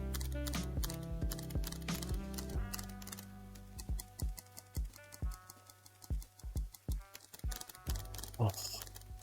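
Rapid keystrokes on a modded Anne Pro 2 mechanical keyboard, loud and close, a dense clatter that breaks into separate clicky, marbly-sounding presses over a steady low hum.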